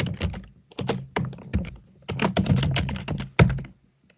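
Rapid typing on a computer keyboard, close and fairly loud, in bursts of keystrokes with brief pauses between them and a final firm tap.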